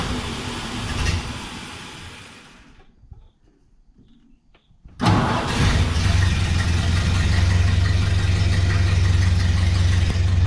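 An old Ford Model A engine from a barn find sputters and fades, falls quiet for a few seconds, then fires back up and settles into a loud, steady idle with a deep low rumble.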